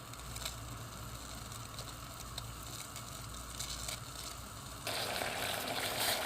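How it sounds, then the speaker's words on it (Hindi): A pot of water with ginger and curry leaves at a rolling boil for ginger tea, a steady bubbling hiss that swells louder near the end, close and alone without talk. "देखिए पानी अच्छी तरह से बॉईल हो गया है।"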